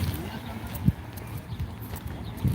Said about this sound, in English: Over there messing around with the horse.